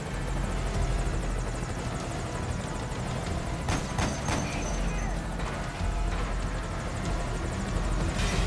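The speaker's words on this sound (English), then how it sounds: "Chopper's hurting bad." A damaged helicopter in Metal Gear Solid V, its loud rotor thump and engine roar continuous and close throughout, with a few sharp crashing impacts partway through and a voice talking under the noise.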